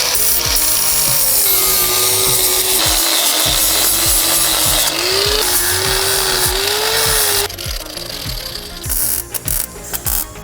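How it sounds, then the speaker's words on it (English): An angle grinder cleans up the sheet-metal body around the transmission tunnel of a K-swapped Honda Civic, a loud, continuous whine that rises and dips in pitch, steady and close for the full stretch. "Nice little area to angle grinder, clean this all up."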